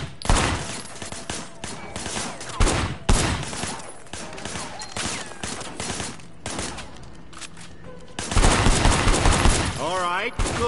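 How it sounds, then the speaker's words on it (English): Gunfire shooting at targets in Sleeping Dogs, the open-world crime video game: loud repeated bursts of rapid shots with short pauses between volleys, ending in an intense sustained barrage. "I want you to put some bullets in a few things."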